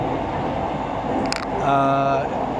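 Interior ride on a new four-carriage metro-style train in Bangkok with hard plastic side seating, a steady rumbling hum throughout, a brief high squeal partway through and a tonal drone rising near the end.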